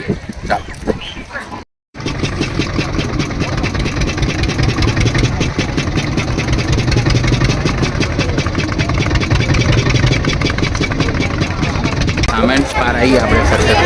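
A boat engine idles steadily on the Narmada River, a continuous mid-to-low rumble that runs almost the whole time after a brief cut near the start, with a crowd's babble and voices mixed in.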